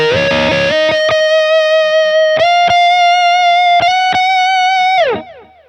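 Electric guitar played through an Anagram amp model with effects, sustaining loud distorted notes broken by a few sharp pick attacks and chord changes, then cut off and fading out in a short tail.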